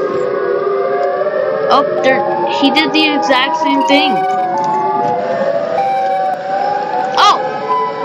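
Wailing, pitch-sliding siren blasts from Siren Head creatures fighting each other in a video game, loud and continuous with overlapping tones, while a person talks briefly over them.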